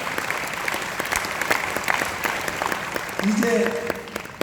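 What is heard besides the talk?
audience applause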